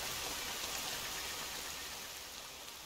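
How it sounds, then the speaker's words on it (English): Steady rain in the survival game The Forest, a dense even hiss of drops falling across the whole stretch, holding constant with no voices over it. "It's raining."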